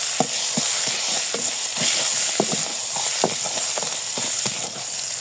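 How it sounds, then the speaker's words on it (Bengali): Crushed garlic sizzles in hot oil in a pan with five-spice seeds, a loud close steady frying hiss broken by repeated scraping stirs of a spatula, with no talk. "আর এখন এই রসুন কুচি দিয়ে দেবো, রসুন ছেঁচে নিচ্ছি একদম। এখন একে একটু ভেজে নেব।"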